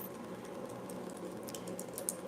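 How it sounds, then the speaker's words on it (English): Typing on a computer keyboard, a fast continuous patter of soft key clicks close by, with no one speaking. "I will start typing out a list"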